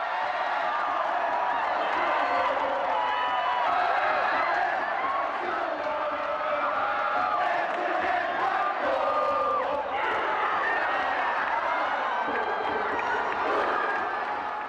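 Football supporters at a K League Super Match roar, cheer and shout in celebration of a goal, a dense, loud crowd noise sustained across the whole stretch with rising swells of whooping.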